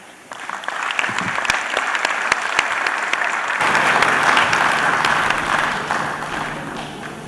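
An audience at the Lagos Employment Summit 2022 applauds, steady close clapping that thickens into a fuller, louder round partway through and carries on without talk.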